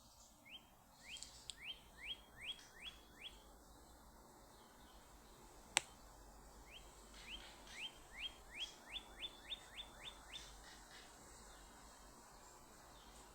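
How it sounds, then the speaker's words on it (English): Birds sing on a drizzly April morning as the clouds break, two runs of quick, repeated chirping phrases carrying at moderate distance over quiet background, broken by a single sharp click between them. "Just a little break in the clouds and the birds begin to sing."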